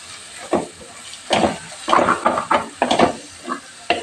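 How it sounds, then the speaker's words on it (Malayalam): Masala being stirred in hot oil in a pan for sardine curry: a spoon scrapes and knocks in irregular bursts over a soft background sizzle, close up, with no voices. "ഇനി ഇത് നമുക്ക് നന്നായിട്ടൊന്ന് ഈ മസാലയൊക്കെ ഇന്ന് കൂട്ടി ഇളക്കാം"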